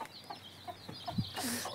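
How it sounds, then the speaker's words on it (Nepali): A chicken clucks softly in short scattered calls, a few low clucks and one brief higher note, faint and close over quiet background hum, with no talking. "यो कुखुरालाई यहाँ खुरभित्र हालिदिनु पर्यो"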